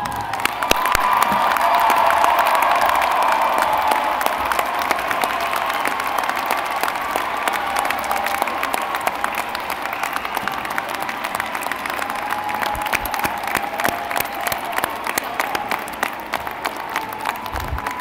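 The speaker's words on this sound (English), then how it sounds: "you turn around, look at your people, and we'll join you in applauding them" Graduates at a Hofstra University mid-year commencement turn to applaud their families, producing a dense, steady roar of clapping from a large crowd with scattered cheers and whoops, sustained at full strength throughout.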